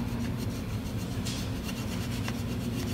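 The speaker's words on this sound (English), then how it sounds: "You can use the back of your brush to scrape that off." Brush back scraping black dirt and oil buildup off a coin changer mechanism, a steady close rasping rub that continues without pause and with no voices.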